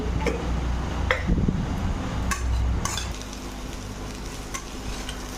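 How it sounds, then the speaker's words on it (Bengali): Mango pieces frying in a pan for a mango dish with date-palm jaggery: a steady low sizzle with scraping stirs and occasional light utensil clicks, close and continuous, with no talk. "আমটা আমি এভাবে বেজে নিচ্ছি"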